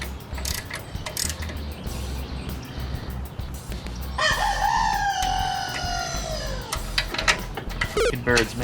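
A rooster crows loudly and close by, one long drawn-out call in the middle, with scattered chicken clucks and faint mechanical ratcheting around it, while work on a go-kart goes on nearby.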